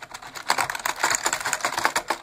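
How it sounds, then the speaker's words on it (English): Rapid, clattery typing on a noisy computer keyboard, dense irregular keystrokes close up with no voices. "I do have the nice keyboard"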